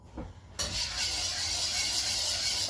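Marinated shrimp tossed and stirred in a bowl, giving a steady wet rubbing, squelching rasp that starts abruptly and continues evenly and close.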